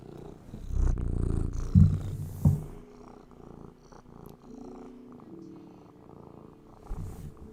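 A cat purrs close by in a steady, rumbling rhythm, swelling louder in short bursts and settling back to a soft drone, with no talking over it.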